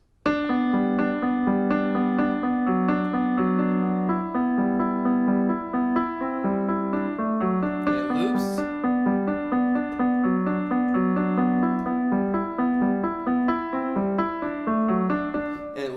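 A piano plays the main five-chord loop of a song, steady repeated chords with bright ringing harmonics, moderately loud and continuous for about sixteen seconds with no voices.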